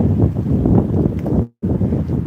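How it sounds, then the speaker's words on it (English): Strong gusty wind buffets the microphone with low rumbling noise, cutting out briefly before resuming. "A little windy this morning."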